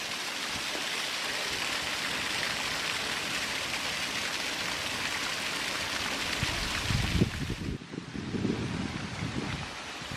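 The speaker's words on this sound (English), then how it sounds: "Sometimes you might be even lucky enough to find a little bit of a waterfall" Small waterfall and stream in a deciduous forest: steady, close rushing and splashing water throughout, with a heavier gush of lower splashing toward the end.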